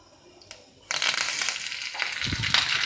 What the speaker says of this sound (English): I'll pour them into the hot oil and they will crackle